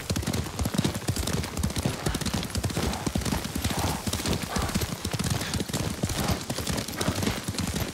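Rapid, steady clip-clop of horse hooves at a gallop in the video game Ghost of Tsushima, loud and close, with a faint whinny mixed into the continuous pounding rhythm.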